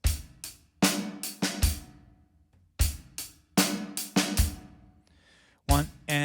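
A rock drum lick from a song, played in a plain duple sixteenth-note feel as a few sharp, close hits in two groups with a final stroke, loud and with no talk.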